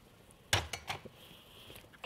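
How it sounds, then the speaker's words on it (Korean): Metal cooking pot being carried and set down in a kitchen, giving a sharp clank followed by several lighter clinks and knocks over about a second and a half, fairly close. "제가 냄비 하나를 좀 갖고 올게요."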